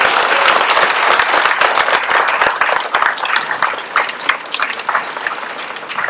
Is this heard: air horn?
no